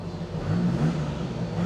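A Td5 Land Rover Discovery engine fitted with a GTB550 turbo, revving from inside the vehicle: a steady loud mid-pitched drone with a brief rise in revs and turbo whir.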